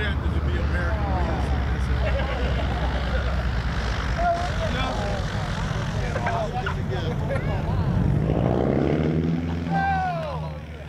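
A propeller aircraft doing touch-and-goes at the Props and Pistons airshow in Akron, Ohio, a steady engine drone with a rising and falling pitch sweep near the end as it passes, with crowd voices underneath.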